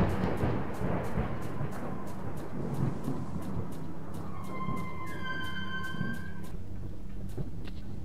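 Steady rain and rumbling thunder from the video game Lost Alpha fill the whole stretch as a continuous hiss with low rolls, while faint tonal whistles and clicks rise briefly near the middle.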